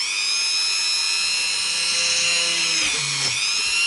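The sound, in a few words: Dremel rotary tool drilling through a guitar body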